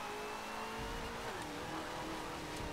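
Car engine in the Forza 7 racing video game, a steady loud drone with a rising pitch sweep partway through, as if revving or accelerating, continuous throughout with no talk.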